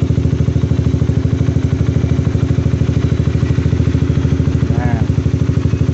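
A Honda CBR150R motorcycle engine runs close by under throttle with a loud, steady, evenly pulsing exhaust throb that holds the same pace for the whole stretch, and no speech.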